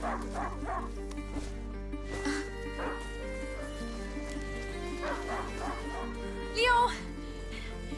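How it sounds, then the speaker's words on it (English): In a PS5 video game, a hunting dog gives several short yips and whimpering barks spread through the scene, while a voice speaks and music plays underneath. "a hunting dog is not supposed to lose its hunter."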